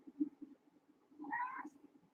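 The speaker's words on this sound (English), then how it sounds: "Meow to you as well." A pet cat meows once, a short rising call close by, following a stretch of low indoor background rumble.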